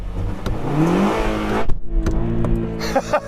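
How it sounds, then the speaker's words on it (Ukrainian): Car engine revved in neutral during an engine endurance test: close, rough revs that rise and fall in uneven sweeps, with a few sharp clicks and knocks between them. "Спробуй дати чотири оберти на нейтралці."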